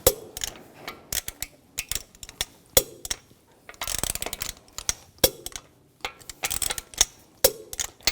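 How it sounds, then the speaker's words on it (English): Torque wrench tightening lug bolts on a 2004-2009 Audi A4 Quattro wheel, repeated rapid ratchet clicks in short bursts with pauses between bolts, close, no talking. "Now I'm going to torque the lug bolts to 90 foot-pounds in a cross pattern"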